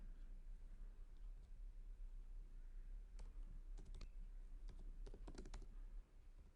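Keys on a computer keyboard click in a few quick bursts of typing against a quiet background hum, faint and close, with no talking.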